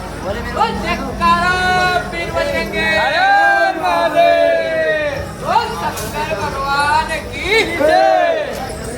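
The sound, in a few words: crowd of kanwar pilgrims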